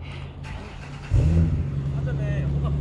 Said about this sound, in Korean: 뜨거워서 시동이 안 걸려요.